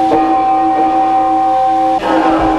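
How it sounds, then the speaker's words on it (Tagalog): A recorded church bell played back from a CD, one sustained ringing tone with steady overtones that holds for about two seconds before a second strike sounds, loud and close. "Gamit ang recorded CD ng tunog ng kampana, si Aling Adelina rin ang naatasang magpatug"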